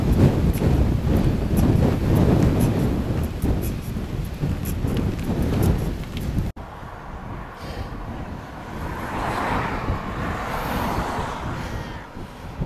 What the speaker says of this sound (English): Foot. Headwind.